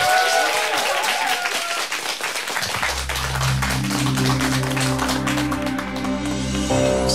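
Loud applause from a live public-broadcast audience welcoming a band, dense clapping filling the first seconds before sustained music with steady low tones begins underneath and takes over.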